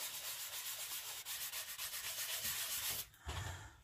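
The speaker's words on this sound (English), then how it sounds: "you can just rub off some of that wax or blend it in a little bit more" Steady rubbing of a cloth over waxed tissue paper on a wood sign, a continuous close scratchy swishing in repeated strokes, briefly pausing near the end before a final stroke.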